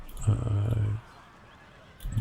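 Horses whinny loudly up close in Empire: Total War as 30th Light Horse cavalry charges in. One long neigh is followed by a pause and the start of another.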